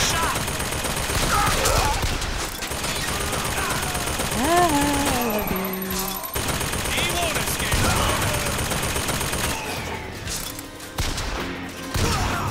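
Heavy gunfire in the video game Bioshock Infinite, rapid bursts and volleys crackling almost continuously and loudly, with voices and a falling whistle-like tone partway through.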